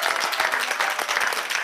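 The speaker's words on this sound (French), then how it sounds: "Marion Billy, on peut l'applaudir très fort." Audience applause in a live radio broadcast studio, a dense, steady wash of clapping hands sustained loudly throughout the short stretch with no voices over it.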